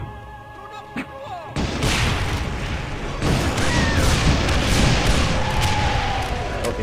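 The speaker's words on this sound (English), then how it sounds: "I could have sworn I shot him with like five napalm shots" Rapid, dense bursts of weapon fire from napalm shots in the shooter game Doom 2, loud and continuous with booming explosions rolling under the gameplay.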